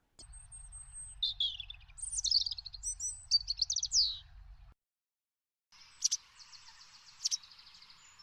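A European robin sings bright, tumbling phrases of high warbles and trills, a pause, then more song further off over faint background noise.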